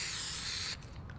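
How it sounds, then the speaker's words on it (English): A can of spray paint in a video game hisses in a single loud, steady burst lasting under a second before cutting off abruptly. "Can you spray paint the cars?"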